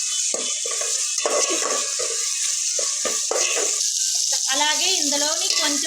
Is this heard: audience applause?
no